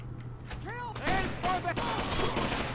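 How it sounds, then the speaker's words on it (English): Single-fire gunshots in the video game Rainbow Six Vegas 2, a run of sharp reports and rattling bursts over game effects and background voices, loud and close. "I'm switching to single fire to take out these dudes."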